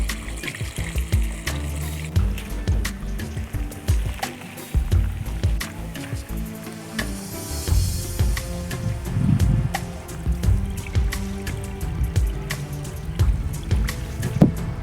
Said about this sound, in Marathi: मी आता झाडांना पाणी टाकते